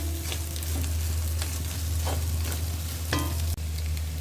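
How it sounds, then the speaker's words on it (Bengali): Loitta fish with shrimp and salt sizzles steadily while frying in a pan, with a constant hiss and a few scraping stirs of a utensil breaking through now and then. "লবণ দিয়ে নেড়ে ছেড়ে দিলাম।"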